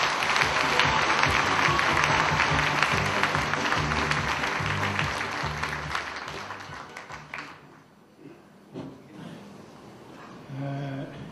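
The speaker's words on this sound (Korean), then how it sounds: "뜨거운 박수로 맞이해 주시기 바랍니다." Warm audience applause welcomes a speaker at a school reunion ceremony. It begins loud and dense, with some sharp individual claps standing out, then thins and dies away into quiet room noise with a few scattered sounds.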